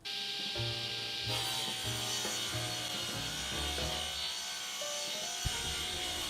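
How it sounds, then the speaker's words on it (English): A saw cuts through a wooden box panel for a chop saw enclosure, giving a steady rasping, rubbing sound with small knocks throughout, close and continuous, with no voices. "Just cutting the box for the chop back now, and docking it to length."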